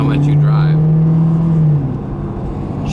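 A car on a test drive, with a steady engine hum and a strong low drone that holds, then eases off partway through, while a voice talks briefly over the start.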